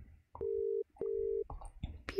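A phone emits two steady electronic beeps of equal pitch, each under half a second with a short gap between, followed by faint clicks and handling noise nearby.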